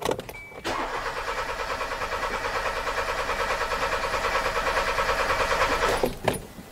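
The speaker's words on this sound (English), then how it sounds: "let's crank the engine and see what we got" A Kia Soul that loses power and stalls at stop lights, its engine cranking with a fast, even rhythmic starter churn for about five seconds before it catches, followed by a brief click.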